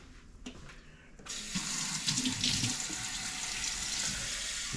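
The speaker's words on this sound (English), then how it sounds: "Cover it with water." Tap water pours steadily into a pot of lemon slices, starting with a few faint knocks and then becoming a continuous close, hissing splash that holds to the end.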